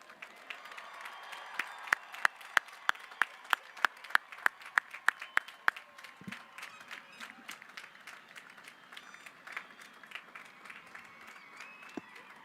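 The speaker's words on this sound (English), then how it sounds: "Can we get one loud round of applause for our graduates?" Scattered applause and cheering from a graduation ceremony crowd at Canyon High School, with a run of sharp, loud claps close by standing out before the clapping thins and fades into murmuring.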